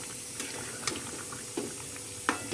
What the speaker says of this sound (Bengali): একটু ভালো করে কষাবো।